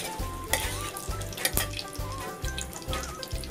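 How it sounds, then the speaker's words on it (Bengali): Cumin seeds tempering in hot oil for a Bengali egg tadka, a crackling sizzle with sharp pops and spatters over a low rhythmic background hum. "জিরে ফোড়ন দিয়ে দিচ্ছি।"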